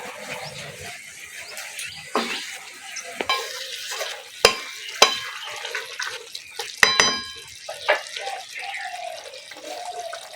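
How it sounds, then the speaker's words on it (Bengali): Green chillies stir-fried in a pan for a Bengali water lily and ridge gourd posto dish: a steady close sizzle broken by sharp spatula scrapes and metallic clinks against the pan, with no talking. "একটু নেড়ে চেড়ে ভেজে নেবো।"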